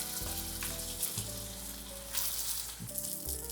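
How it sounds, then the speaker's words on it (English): Chateaubriand beef tenderloin searing in a very hot pan of oil, a close, continuous crackling sizzle that holds steady throughout with no voices. "I'm about to sear the chateaubriand"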